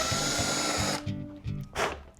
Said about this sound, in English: so I'm just going to go ahead and do a little reverse drill real quick.